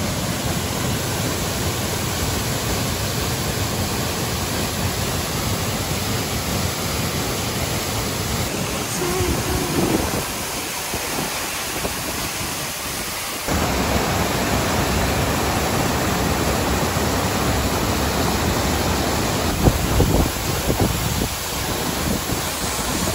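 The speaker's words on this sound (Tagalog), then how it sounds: "Andito po tayo ngayon sa Camandag Falls" Kamandag Falls in Makilala, North Cotabato pours in a constant loud roaring wash of water, dense and unbroken, with a brief dip in intensity midway before resuming.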